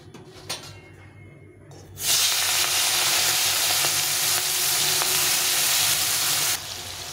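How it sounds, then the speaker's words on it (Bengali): Prawns drop into hot oil in a wok. After a quiet start, a loud, close, continuous sizzle breaks out suddenly and holds for several seconds, then eases slightly near the end. No one speaks. "আর এখানে কড়াইতে তেল দিয়েছি, মাছটাকে ভেজে নেব।"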